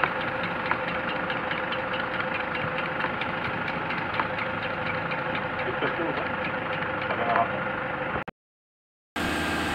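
A Toyota Innova diesel engine runs at raised revs, a loud, steady, close drone with a knocking diesel clatter that cuts out abruptly near the end before returning.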